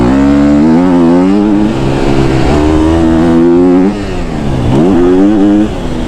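A KTM 250 SX-F dirt bike engine revs hard and loud nearby, held wide open, its pitch climbing and dipping through gear changes in a continuous raspy whine.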